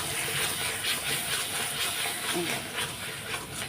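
Spices with turmeric and Kashmiri chilli powder sizzle and hiss steadily while frying in a pan, a close, continuous crackling wash that never pauses.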